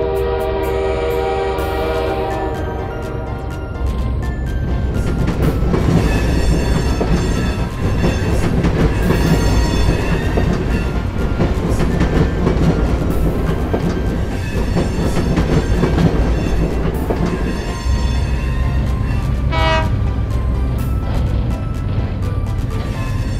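Animated children's train runs steadily with rhythmic rail clatter, sounding its horn and whistle in loud tonal blasts near the start and again later, continuous and close with no talk.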